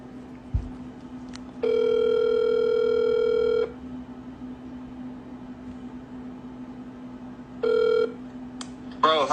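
A phone ringing on a call: two bursts of steady electronic ring tone, the first long, the second shorter after a pause, over a low constant hum with a faint thump near the start.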